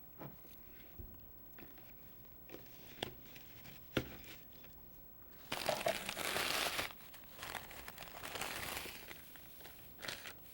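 Shredded tissue paper crinkles and rustles as it is packed into a gift basket around a gift, soft and close, swelling into a busier burst of crumpling midway before easing off.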